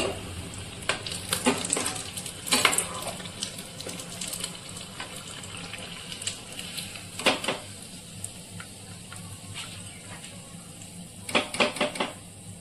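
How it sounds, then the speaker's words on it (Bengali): Chicken chops fry in a pan over a low-to-medium flame, a steady close sizzle of hot oil with sharper crackling bursts and spatters recurring every few seconds. "এইরকম ভাবে আমি বাকি সব চপগুলো ভেজে নেব।"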